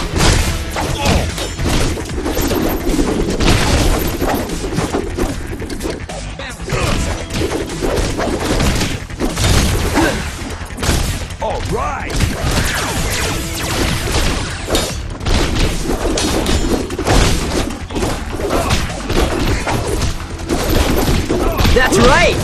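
Laser fire and combat in TMNT: Out of the Shadows, with constant loud zaps, hits and crashes packed tightly together over a long stretch of intense fighting, with voices now and then.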